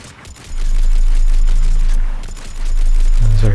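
Mattock rifle fire in Mass Effect 3: heavy, booming semi-automatic shots, one per trigger pull, loud and close with a deep low rumble, two sustained bursts separated by a brief lull.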